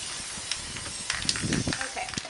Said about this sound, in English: And then I'm going to apply a nice even layer to